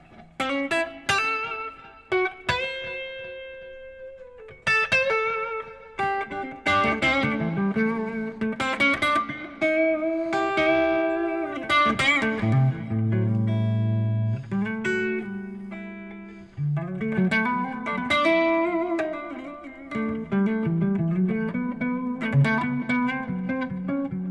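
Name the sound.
instrument through tape delay and reverb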